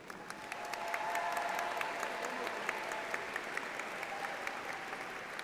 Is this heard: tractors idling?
no